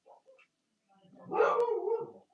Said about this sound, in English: Dog, stop barking.